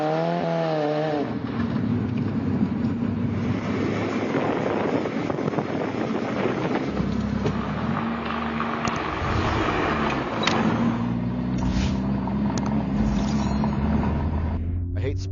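Student-built Crimea Roadster sports car pulling away in first gear, a steady engine drone with rising revs and rough road and wind noise throughout, heard from inside the car with voices talking over it.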